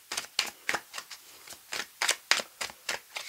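A tarot deck being cut and handled: about a dozen crisp, evenly spaced card snaps and slaps, close and fairly loud, with no talking.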